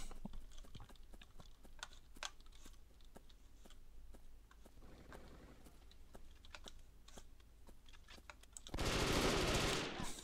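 Rapid gunfire from the Brick Force first-person shooter on the Asia Town map: a steady string of sharp automatic shots for about nine seconds, ending in a loud, dense burst of blasts.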